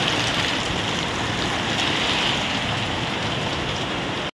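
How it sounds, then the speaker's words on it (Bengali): Heavy rain pours steadily during a night storm in a rural home, water splashing down nearby in a dense, continuous hiss that stops abruptly at the end. "এই দেখো এখানে জলটা পড়ছে"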